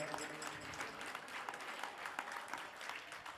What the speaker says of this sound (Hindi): तालियां बजा दो भाई जोरदार